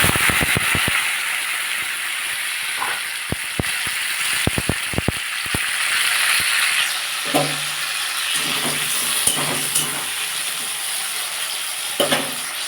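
Potatoes, onion and green tomato fry in a pan with a steady soft sizzle, punctuated by clusters of sharp clicks and scrapes from stirring and utensil taps.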